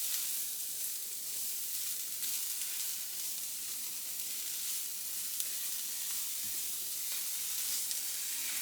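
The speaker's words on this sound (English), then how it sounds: "I'm just going to fry until it's pink." Food sizzling steadily in a frying pan while it cooks for a curry, a continuous close hiss with faint crackle and no talking.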